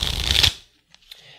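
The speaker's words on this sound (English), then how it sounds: "For this one, we're going to shuffle it up as normal." A deck of cards for the board game Rail Raiders is shuffled in one loud, dense riffle lasting about half a second, followed by a few faint taps and rustles as the cards settle.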